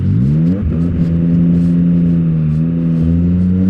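Motorcycle with a loud exhaust pulling away from a green light on the Isle of Man TT course, engine note rising as it accelerates, close and steady with no talking.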